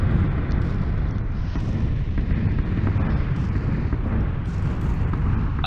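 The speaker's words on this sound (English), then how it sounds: "that was an explosion right outside my house" A deep rumbling blast from an in-game explosion in PUBG close outside a building, a dense, sustained boom and roll filling the whole stretch, with no talk.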